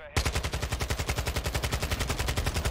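Rapid automatic gunfire in Warzone 2, a loud, close, unbroken burst of evenly spaced shots lasting a couple of seconds after a brief quiet lead-in.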